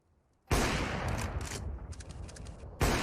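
Rapid bursts of gunfire in Counter-Strike: Global Offensive, a dense, loud volley that begins abruptly after a brief quiet lead-in, sustains with crackling shots, dips briefly, then resumes with another heavy burst.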